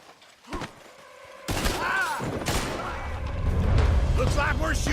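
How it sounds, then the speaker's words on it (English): Gunfire during a shootout in the video game Red Dead Redemption 2, breaking out suddenly after a quiet start, with loud booming shots and clatter layered under overlapping character voices and continuing to the end. "Looks like we're shooting our way out of here, fellers."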